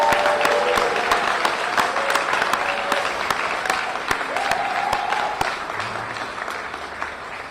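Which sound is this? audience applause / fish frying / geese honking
audience applause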